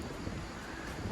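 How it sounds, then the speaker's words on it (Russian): Outdoor wind on Miyakojima island in Okinawa, a faint, steady broadband rush buffeting the microphone for about a second, alone with no voices. "Нормальный ветер."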